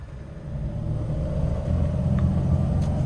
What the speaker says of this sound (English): let's go ahead and take this 21 custom 2500 Sprinter with 4-wheel drive out on the road